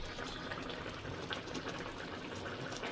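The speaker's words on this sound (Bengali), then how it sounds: "ফুটতেছে।" Hilsa fish curry with added water boiling in a pot, a steady close bubbling and fizzing simmer at moderate-low volume, continuous throughout with no talking.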